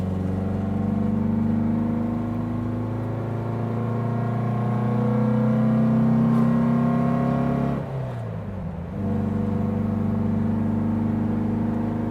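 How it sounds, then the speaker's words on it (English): A 1960 Porsche 356 Abarth tribute engine drones with a deep, throaty exhaust note at steady cruising revs on the road, briefly dipping as if shifting gear before settling back into the rumble. "you truly just love to listen to the motor, the throaty exhaust."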